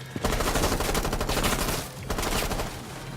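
Rapid bursts of video game gunfire crackle continuously at close range in a tactical shooter match, dense and loud throughout with a brief dip near the middle.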